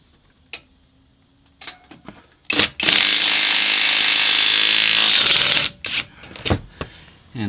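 Impact wrench undoing bolts on a Jeep steering box brace, one loud, continuous close rattling whir lasting about three seconds, framed by sharp clanks and metallic taps.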